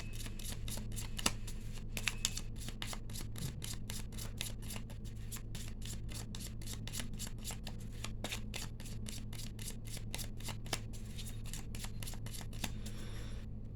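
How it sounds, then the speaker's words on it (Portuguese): A Gypsy Lenormand card deck being shuffled by hand, a steady, fast run of crisp riffling flicks that continues for the whole stretch, quiet and close over a low hum, with no talk. "embaralhei aqui pra gente, vou cortar um monte do baralho cigano"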